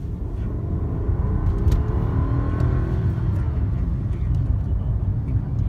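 A Rolls-Royce Ghost luxury car engine gives a steady, low, loud rumble with a smooth whir and a slight rising tone, heard continuously without talk.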